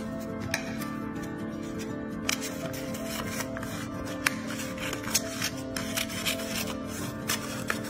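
Scissors snip through a paper double Mobius strip loop, with several crisp cuts and rustling paper close by over a steady low background hum, and no talking.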